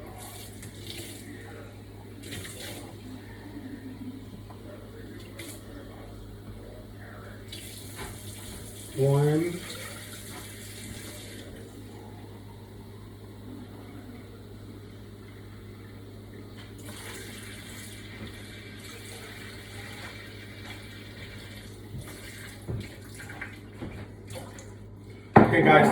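Water runs from a kitchen tap into a measuring cup for two cups while preparing Mexican chicken and rice, a faint steady stream with a few clinks of dishes and occasional talk.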